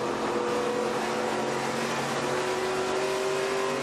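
An ARCA Menards Series race car engine drones steadily at high revs, heard from onboard at Phoenix, its pitch rising slightly as the throttle is feathered through a corner.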